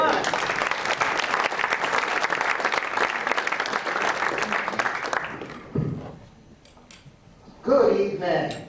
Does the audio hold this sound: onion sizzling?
no